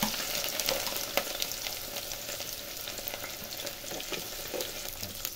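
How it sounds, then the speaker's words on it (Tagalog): Onion dropped into hot cooking oil, a dense, steady close sizzle with occasional sharper crackles, fairly loud throughout and with no talk. "Mainit na ang ating mantika. Ilagay na natin ang sibuyas."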